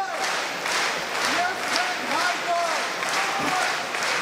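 Fight fans roar in a steady, loud wash of cheering and clapping through a live Oktagon 59 MMA bout, with scattered shouts rising above the din.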